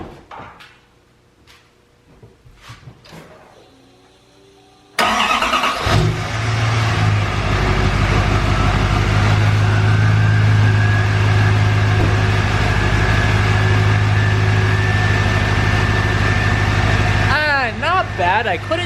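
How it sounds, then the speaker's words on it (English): A truck engine cranks and catches after a few quiet seconds, then settles into a loud, steady idle with a low rumble that continues to the end. "So let's start the truck up"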